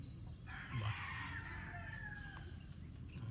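Domestic fowl crow and cluck outdoors during an early-morning round, a drawn-out crow rising over steady background hiss with a few short clucks at mid distance.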